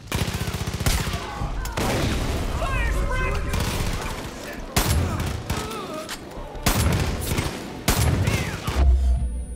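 Bursts of rapid gunfire crackle and boom in uneven volleys in the video game Far Cry 5, with a voice talking over parts of the shooting.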